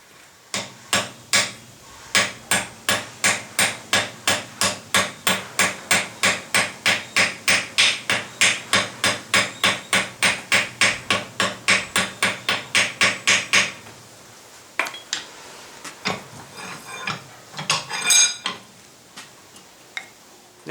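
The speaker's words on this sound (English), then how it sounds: "trying to hammer on the inside whilst I'm hammering on the outside" Steady, rapid metallic hammer blows flattening a rivet on a candle lantern frame ring out close up, a long run of evenly spaced strikes, then a few scattered taps and clinks after a pause.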